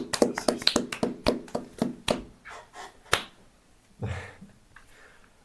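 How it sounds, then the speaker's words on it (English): Applause after a funeral speech at a tabletop game session, a short burst of sharp claps and taps in quick succession for about three seconds, then a few scattered softer sounds, close and fairly quiet. "Can I get a round of applause, please?"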